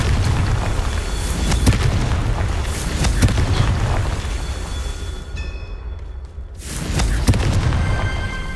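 Confringo blasting spell detonating in the Hogwarts Legacy video game, loud booming explosions with rumbling bursts, a sudden drop to near silence, then another blast and rumble.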